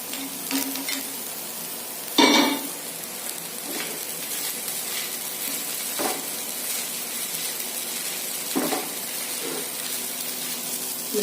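Roasted peanuts are stirred into rice flakes and grated coconut in a pan, a quiet scraping with faint sizzle punctuated by a few sharper spoon knocks against the pan.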